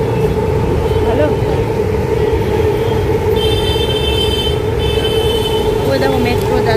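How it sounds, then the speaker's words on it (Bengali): A metro train in Bangalore passes close by, a loud steady rumble of wheels and rail with some high squealing, set in busy outdoor noise. "ওই দেখো মেট্রো যাচ্ছে।"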